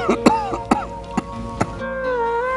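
An elderly man coughs in a series of short, harsh bursts, about five in quick succession, close to the listener, before a sustained tone takes over at the end.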